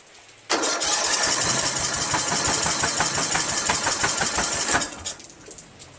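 A Briggs 17.5HP engine on a Craftsman lawn tractor under repair catches at low throttle and runs loudly and roughly for about four seconds before cutting out and falling quiet.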